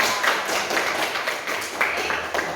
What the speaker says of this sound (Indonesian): Nah, tepuk tangan untuk Fikram.